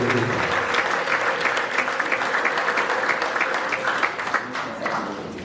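Church congregation applauding at a 30th anniversary service, dense steady clapping throughout that stays loud and full, with faint crowd voices and cheering mixed underneath.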